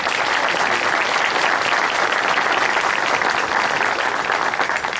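A conference audience at a UFO conference in Edinburg, South Texas, applauds loudly to welcome a speaker, a dense, sustained roar of clapping that stays strong and even for about five seconds.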